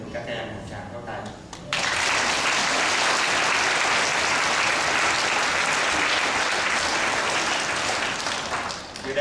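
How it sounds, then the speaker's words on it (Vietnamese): Sustained applause from a church congregation at a Mass in a Tustin, California parish, rising abruptly after a brief spoken moment and continuing loud and steady for several seconds. "Một tràng pháo tay."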